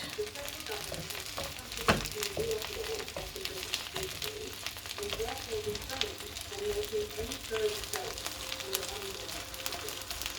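Stirring in a pot of chicken soup with turkey chops: quiet scraping and occasional clinks of a spoon over a low, steady background sizzle, faint and close.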